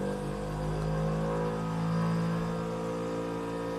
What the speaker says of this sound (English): It takes a few seconds for the grinder to get up to speed.